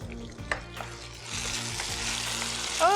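Chopped tomatoes and okra frying in a pan, a steady close sizzle that swells and stays bright with a few stirring knocks at the start, and no talking.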